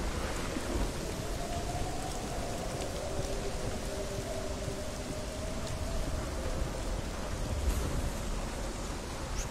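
Steady heavy rain hisses through a thunderstorm in the Hellblade Senua's Sacrifice video game, with a low, continuous rumble of thunder beneath, dense and unbroken throughout.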